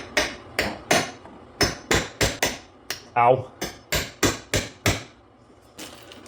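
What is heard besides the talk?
hammering a hood latch into place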